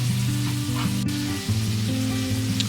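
Chopped tomatoes frying in a pan for Nepali chips chilli as soy sauce goes in, a dense close sizzle held steady under a low droning tone, no talk.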